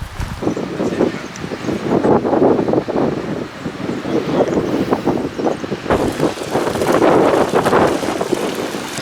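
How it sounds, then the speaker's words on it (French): Gusty wind on a mountain outing near a refuge in the Mont Thabor area, blowing steadily and loud across the microphone with rushing, buffeting surges that strengthen in the second half, no voices. "il y a tous les jours pas mal de vent, surtout en fin de journée"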